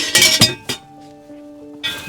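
Metal pots and a kettle clinking together as they are gathered up, several bright ringing clanks in quick succession, a lingering metallic ring, then another clank, no voices.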